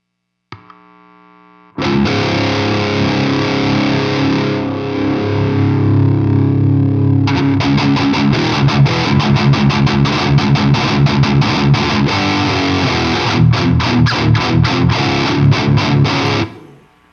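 Electric guitar played through an HM2-style distortion pedal: a brief clean pluck, then loud, thick, buzzing sustained chords giving way to fast palm-muted chugging riffs that stop abruptly.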